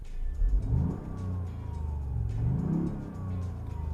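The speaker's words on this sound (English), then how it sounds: "Let me start the engine again." A Toyota GR Yaris engine revs up twice, the pitch climbing and falling back each time, with a steady idle rumble in between.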